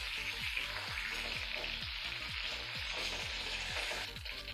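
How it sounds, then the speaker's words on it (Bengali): Four pieces of rohu fish fry in oil over a low-to-medium gas flame, a continuous crackling sizzle running under background music. "মাছগুলোকে গ্যাসের ফ্লেম লো টু মিডিয়ামে রেখে ভেজে নেব"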